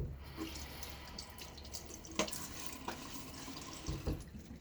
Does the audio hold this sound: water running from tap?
yes